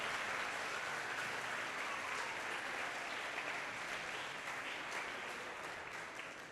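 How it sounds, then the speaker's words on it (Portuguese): A church congregation applauding, a broad, continuous wash of many hands clapping together at moderate distance, steady throughout and tapering a little at the close. "Dá um aplauso a Jesus."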